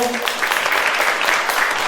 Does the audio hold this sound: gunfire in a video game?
no